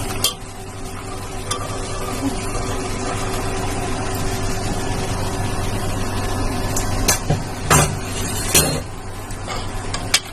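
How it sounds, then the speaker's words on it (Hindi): Black chickpeas are tipped into fried masala and stirred in a cooking pan, giving scattered metallic scrapes and clinks of the spoon late on over a steady background hum. "ये देखिए मसाला में भून लिया। चने डाल देंगे इसमें"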